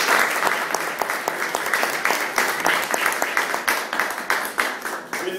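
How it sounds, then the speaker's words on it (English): An audience at a Toastmasters meeting claps in sustained applause, a dense, even patter of many hands that stays strong throughout and eases slightly toward the end. "Please, applause."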